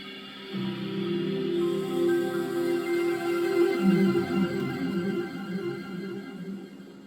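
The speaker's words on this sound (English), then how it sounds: "Now this is the best part of Windows NT 4, I think, is the startup sound." The Windows NT 4 startup sound: a swelling synthesized chime of layered sustained tones rises, shifts chords midway, then slowly fades, with no speech.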